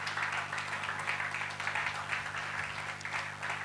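An audience at the International Boy-Child Summit 2021 gives a round of applause, a sustained, even wash of many clapping hands heard from a slight distance and fairly soft, with no speech on top.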